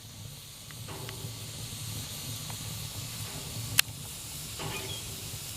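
Sap hisses and boils out of burning wood in a smoker firebox, a soft steady hiss over a low fire rumble, with a few faint squeals and one sharp crackle.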